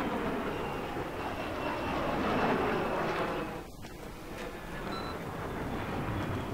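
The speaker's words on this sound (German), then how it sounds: "Ich höre die Jets." Fighter jets flying overhead in the video game Battlefield 3, a broad roaring rush that swells and fades as they pass, with a brief dip midway before the rumble returns.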